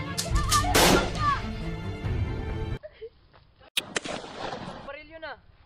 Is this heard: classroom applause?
no